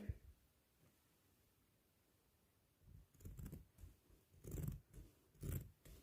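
Scissors snip through salwar fabric in a few soft, close cuts, quiet crunching bursts near the end after a stretch of near silence.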